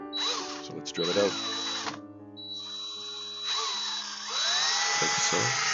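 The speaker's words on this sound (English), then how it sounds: "So let's drill it out." A small drill bores a hole in the bottom of a diorama piece to fit over an LED, whirring steadily close by in several bursts between pauses, with talk alongside.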